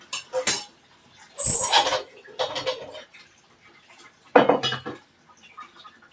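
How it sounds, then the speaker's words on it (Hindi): Steel dishes, pots and pans are washed in a home kitchen, making scattered clanks and clinks in short bursts with quiet gaps between them. "तो फटाफट करती हूँ बर्तन साफ"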